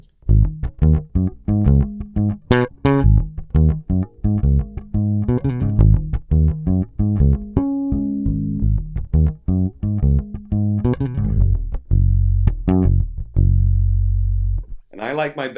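A bass guitar with its bass control boosted plays through a Darkglass Microtubes 900 amplifier, a loud, fast line of growling, slightly distorted notes with heavy low end, closing on a ringing held note.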